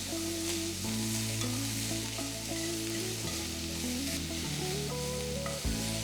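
Half an onion stirred into a pan of cooking beef for Thai beef salad, giving a steady sizzle with occasional stirring noises under prominent background music.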